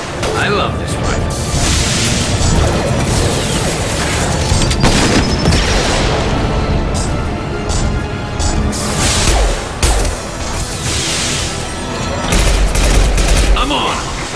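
Rifle fire in Mass Effect 2 Legendary Edition: loud bursts of shots with booms, crashes and whooshing impacts in a dense, continuous combat mix, with voices speaking over it.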